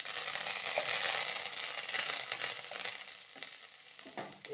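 Curry leaves sizzle loudly in hot oil, a dense crackling hiss up close that fades slightly toward the end, made while preparing a flattened rice pulao.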